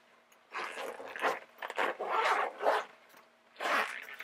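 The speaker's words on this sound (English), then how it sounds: "And this part over here is a zipper part." A zipper on a well-padded double-zipper cover is pulled in several short, scratchy runs, close and fairly quiet, with brief pauses between strokes.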